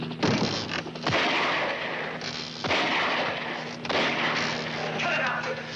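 Several sharp gunshot blasts ring out at roughly one-second intervals, loud and close, amid a constant background hum and muffled voices during a tense standoff scene.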